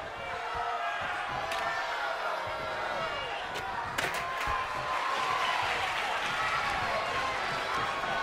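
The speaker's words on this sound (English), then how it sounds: "And this crowd is going wild!" A wrestling crowd roars and cheers wildly at a Manhattan showdown event, a loud, dense, unbroken wash of arena noise lasting throughout, with commentary voices running over it.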